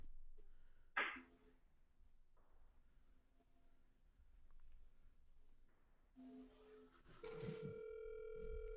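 A telephone line tone rings out faintly while calling in to a sports talk radio show, with a brief click and quiet stretches before steady tones near the end.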